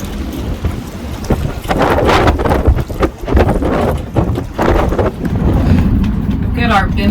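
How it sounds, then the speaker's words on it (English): Strong wind gusting at 20 to over 30 knots buffets a sailboat under a tight bimini, roaring loudly and unevenly across the whole clip with rushing surges and buffeting against the microphone, no talk over it. "30 knot gusts. I keep trying to get it on video, because it's fluctuating between 20 and like 31,"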